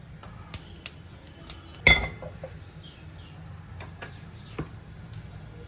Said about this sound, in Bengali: এবার আমি কড়াইটা বসিয়ে দেবো